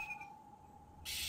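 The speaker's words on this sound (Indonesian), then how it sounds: "terdengar burung kokok beluk berbunyi." A kokok beluk owl near a house at night gives a soft, steady whistled call, a thin sustained tone lasting about a second before a burst of broader noise cuts in.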